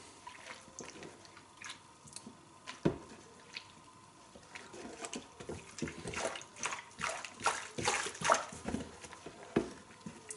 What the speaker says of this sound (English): And I'll just agitate the mirror in the water.